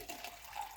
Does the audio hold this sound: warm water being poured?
yes